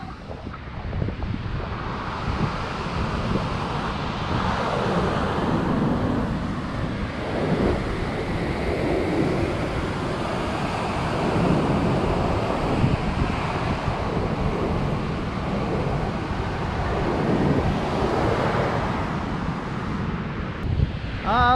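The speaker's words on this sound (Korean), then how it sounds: "파도 소리 한번 들려드리겠습니다." Ocean waves break on an empty sandy beach in a steady, loud roar of surf, mixed with heavy wind buffeting the microphone throughout.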